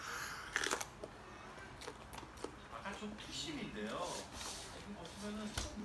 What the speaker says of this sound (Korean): 저는 오늘 이거 뭐였더? 고추를 먹어보겠습니다.